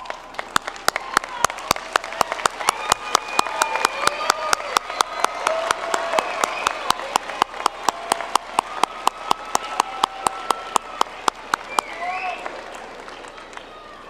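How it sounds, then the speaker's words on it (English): Graduating students at a December university commencement ceremony applaud their families, a dense, sustained clapping from a large crowd that holds steady for about twelve seconds before tapering off, with faint voices underneath. "give them a round of applause"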